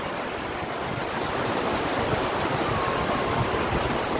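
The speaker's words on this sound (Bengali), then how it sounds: "ঝর্ণা জল পড়ছে, দেখো" A waterfall in the Bagmundi hills of Purulia gives a continuous, close, rushing roar of falling water, steady and broad with no voices over it.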